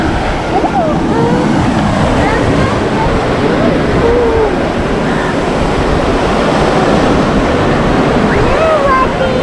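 Waves at Delta Beach, where a river meets the sea, roar in a constant loud wash mixed with wind buffeting the microphone, with faint voices in the background throughout.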